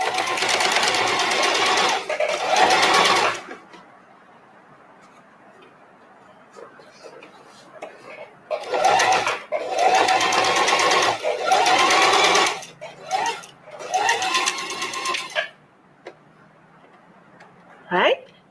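A sewing machine stitches fabric in several loud close bursts of rapid whirring needle action, separated by quiet pauses, with people talking in places.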